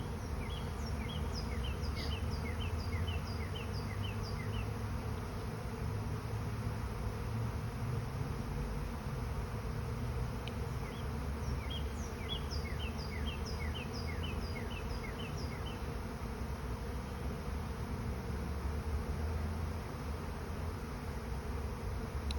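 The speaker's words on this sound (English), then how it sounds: "suddenly realized that the air was filled with bees and there was this huge loud noise" Honeybee swarm arriving at a hive in April, a dense, continuous buzzing drone of countless bees filling the air steadily for the whole stretch, with occasional faint chirps above it and no talking.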